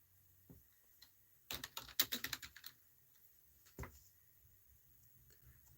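Keys clatter on a computer keyboard in an office, a quiet tap or two, then a fast burst of typing and one last isolated keystroke, close and fairly soft, with no talking.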